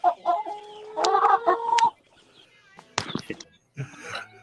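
Chickens cluck in a coop, loud and close, with bursts of squawking and throaty calls separated by short pauses, and a voice mixed in among them.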